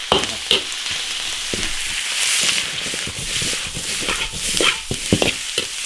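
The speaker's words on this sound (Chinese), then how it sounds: "大蒜、干辣椒炒香，上香肠。" Sausage stir-fried with garlic and dried chilli in an iron wok: a constant loud sizzle broken by repeated scraping and clanking of the spatula against the metal.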